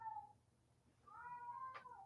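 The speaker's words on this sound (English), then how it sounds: "I'm gonna leave some of these cat meows in the pod" A cat meows twice during a podcast recording, a short faint cry and then a longer, rising meow ending in a sharp squeak, quiet and close in an otherwise hushed room.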